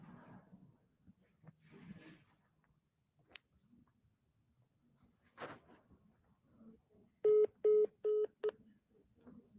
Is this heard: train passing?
no